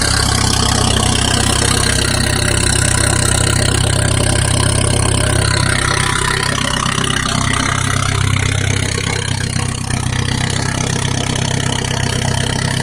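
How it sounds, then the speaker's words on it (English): A car engine rumbles loudly and steadily just after a cold start, with a deep, rough idle sustained close by and no voices. "she's a loud girl on the cold start"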